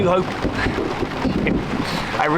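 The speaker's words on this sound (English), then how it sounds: "I'm just hiding out for a moment in the pouring rain in the golf cart" Pouring rain drums steadily on the roof of an open, sideless golf cart on Anna Maria Island, a loud, dense, continuous wash heard up close throughout.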